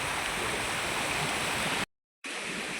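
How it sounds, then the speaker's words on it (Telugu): A stream near a hillside temple runs down from above, a steady, close rushing wash of water that cuts out briefly to silence before resuming. "ఇది పైనుంచి వాటర్ వచ్చి ఇలా వెళ్తుంది కిందికి"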